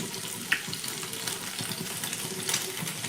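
Egg-and-milk coated bread frying in a pan gives a steady hissing sizzle throughout, with a couple of faint clicks and no talk.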